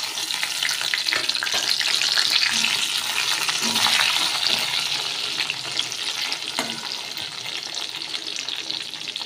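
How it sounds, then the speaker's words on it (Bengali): Fried potatoes hit hot oil with cumin seeds in a pan, setting off a loud, continuous close sizzle that hisses steadily, with occasional stirring knocks and no talking. "আলুটা দিয়ে দিয়েছি।"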